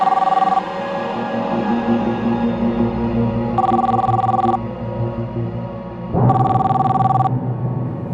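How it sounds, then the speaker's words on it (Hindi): A telephone rings at home in two distinct electronic bursts about three seconds apart, each about a second long, over a steady low background rumble, with no one speaking. "मैंने करीब 12 बजे अपने ऑफिस से घर फोन किया था भरत से बात करने के लिए।"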